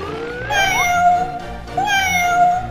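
A cat meows twice in drawn-out, rising-then-falling cries, close and clear with a short gap between them and no talk.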